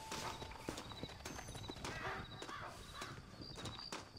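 Horse hooves clip-clop steadily in the video game Red Dead Redemption, a continuous run of fairly quiet hoofbeats with some background game noise.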